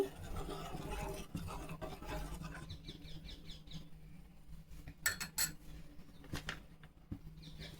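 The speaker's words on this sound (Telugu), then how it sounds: "స్టవ్ స్లిమ్లో పెట్టుకొని మిక్స్ చేసుకుండా ఒకసారి నిదానంగా మిక్స్ చేసుకుంటాము" A spoon stirring semiya, sabudana and milk payasam in a pot on low heat, soft continuous scraping and clinking against the metal with a few sharper taps, close and moderately quiet, no talking.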